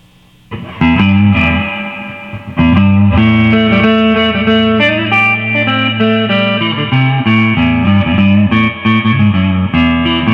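Loud electric guitar, a partscaster Strat on its neck P90 pickup, playing sustained, slightly gritty chords, close and full, with a faint underlying electrical hum from the pickup before the first strum.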